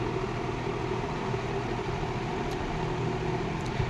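A 1960s Emerson two-speed reversible box fan with a PSC motor and aluminum blade runs on low speed, giving a steady, even whirring hum that holds constant throughout with no talk.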